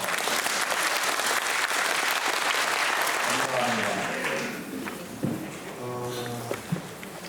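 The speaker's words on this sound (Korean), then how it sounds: "큰 박수 한번 주세요." An audience in a Korean church pastoral-counseling gathering claps in a dense, steady burst for about four seconds. The applause then thins and fades out, leaving a few scattered claps and some soft background tones.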